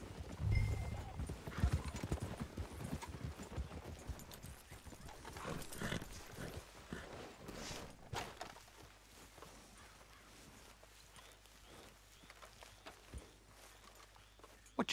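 Horse hooves clip-clop at a walking pace in the Red Dead Redemption 2 game world, mixed with game ambience and occasional voices, loud early on and then settling into softer steady steps.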